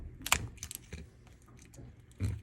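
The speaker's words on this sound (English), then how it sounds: "Now I've got to cut my CPAP tube." Heavy-duty scissors snip through a CPAP tube with a few sharp, close cuts and crunches, then a firmer closing snip near the end, quiet and alone.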